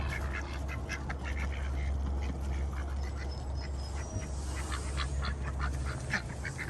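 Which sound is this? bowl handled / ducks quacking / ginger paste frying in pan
ducks quacking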